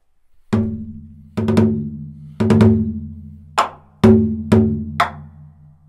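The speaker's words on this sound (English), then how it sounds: "Odaiko essentially translates to large drum." A Japanese odaiko, a large drum, is struck about eight times in an uneven pattern, including quick double hits, each deep booming stroke ringing out and decaying, close and loud against silence.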